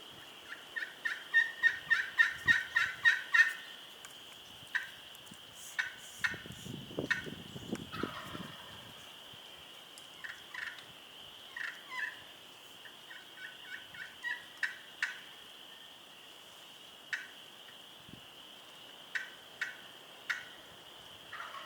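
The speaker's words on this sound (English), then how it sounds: "as we're calling to this turkey and he's gobbling" A wild turkey in Nebraska gobbles repeatedly during a hunt, a rapid rattling burst early on followed by scattered shorter gobbles and clucks at moderate distance, with faint rustling in between.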